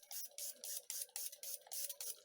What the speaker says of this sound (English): And then spray it one more time.